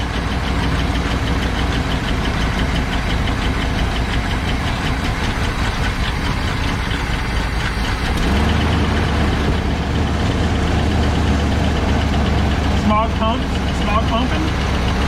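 A Chevrolet C10 squarebody truck with a 250 engine idles with a steady, even mechanical rumble that shifts slightly in tone partway through, while people talk over it.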